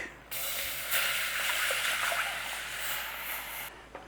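Milk poured into a baking tin for an old-school Irish bake, a steady, close liquid hiss and splash running for a few seconds before stopping abruptly.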